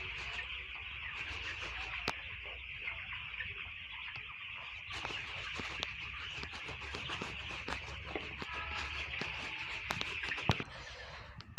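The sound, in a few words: village chickens clucking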